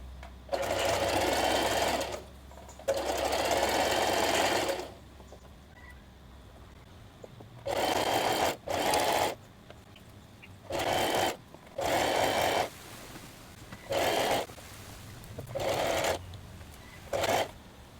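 A sewing machine stitches a lined summer top in about eight separate bursts of close, loud, whirring needle action, with quiet pauses between them.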